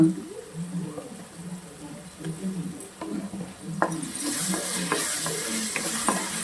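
Ginger garlic paste sizzles in a hot pan while a spoon scrapes and stirs it, giving steady low frying noise with repeated metallic clinks and a brighter hiss swelling toward the end.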